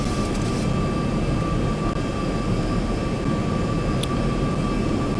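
Simulated Boeing 737-800 in X-Plane 11 on approach with flaps 20 and gear up, giving a steady, loud broadband engine and airflow roar with a faint constant tone running throughout, no voices.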